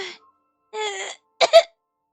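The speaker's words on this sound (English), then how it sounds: "She began to cough as soon as they left." Three short, harsh vocal bursts from a woman, the last one a quick double hack, separated by brief silences.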